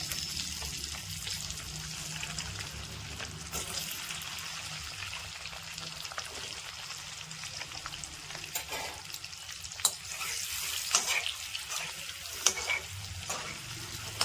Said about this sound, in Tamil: முட்டையை போட்டு அப்படியே வறுக்கணும்.